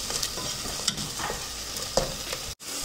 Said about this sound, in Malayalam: സോ ഈ മിക്സ് നന്നായിട്ട് കുക്ക് ചെയ്യണം with all the masala powders